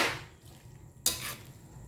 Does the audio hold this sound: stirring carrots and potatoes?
yes